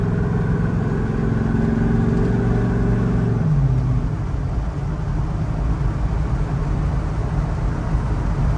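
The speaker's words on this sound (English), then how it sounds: "Listen to that exhaust sound, baby." A 1975 Chevrolet K5 Blazer Cheyenne with a Vortec 6.0 V8 rumbles loudly while driving, its steady exhaust drone rising in pitch as it accelerates, then shifting and settling into a continuous low roar.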